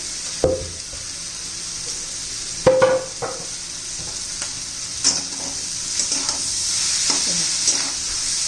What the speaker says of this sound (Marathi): आता आपण शिमला मिरची कट करून घेतलेली ती घालू